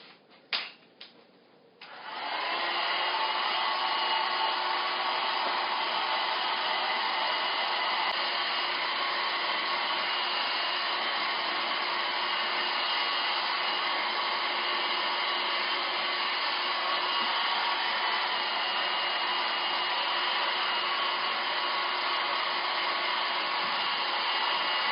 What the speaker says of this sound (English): Now I'm going to blow dry.